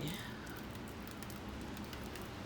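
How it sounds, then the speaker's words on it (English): Steady, dense patter of rain falling hard, a continuous broadband hiss with scattered drop impacts and no clear voices. "It's pouring rain today."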